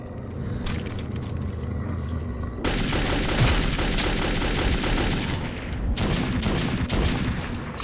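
Loud 12-gauge shotgun blasts and other gunfire from the video game Metro 2033 come in dense, rapid bursts over a constant rumbling din, with a brief lull before the firing resumes.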